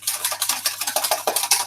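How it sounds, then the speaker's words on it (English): A metal whisk beating lumpy macaroni cheese sauce in a pot, fast rhythmic clinking strokes against the pan repeating several times a second, close and fairly loud with no talk. "I'm going to switch from my spoon to my whisk"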